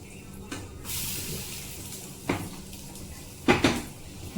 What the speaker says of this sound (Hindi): ये 2 पकौड़ियाँ हमारी पक रही हैं, तो इनको भी हम पलट देते हैं